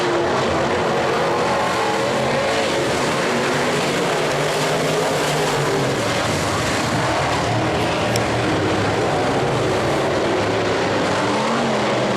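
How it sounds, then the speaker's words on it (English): A tightly bunched pack of race cars roars around an oval track, a dense, steady wall of engine noise at close range with no letup. "Cars 2 through 6 are tightly bunched."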